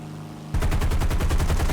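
Machine gun fire from a gunner's position on a torpedo bomber in the War Thunder video game: after a brief quiet hum, a loud, rapid, evenly spaced burst of shots begins and continues without pause until the end.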